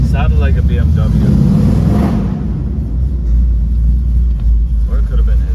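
A car with a small four-cylinder engine passes, a steady loud low rumble with engine drone rising and fading under continuous outdoor noise, a voice talking briefly over it.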